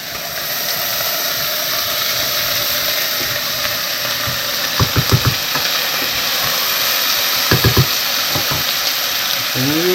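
Chopped onion sizzles in about two tablespoons of olive oil in a pot, giving a steady, loud hiss that fills the whole stretch, with a few faint clinks of a utensil against the pot.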